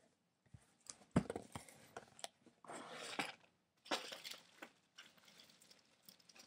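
Cardboard and tape being torn and pulled apart up close, in several bursts of scratchy rustling and crinkling, with short pauses between.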